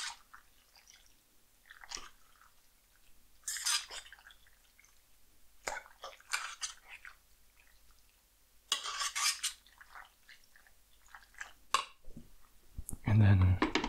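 A plastic utensil stirs food in a pot while cooking, with bursts of scraping and clattering against the pot spread unevenly across the stretch. Soft speech can be heard at times.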